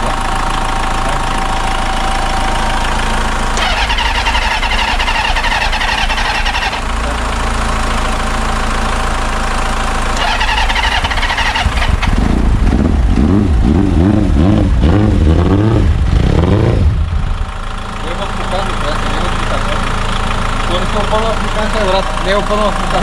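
An older motorcycle engine sputters into life and runs with a rough, uneven idle, briefly revving louder midway, while people talk nearby throughout.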